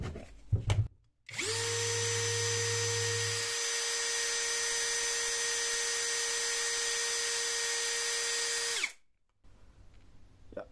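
A cordless MLHY 20V drill spins up and runs steadily at speed 2 with a high, even whine and bright harmonics for about seven seconds, then spins down, close and loud, with no talk.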